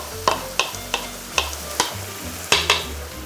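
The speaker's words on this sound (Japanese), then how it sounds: "優しく丁寧にこのフライパンの中で潰していきます。" Canned whole tomatoes being crushed in a frying pan for a bolognese sauce, with a series of sharp utensil taps and scrapes against the pan over a low simmering sizzle.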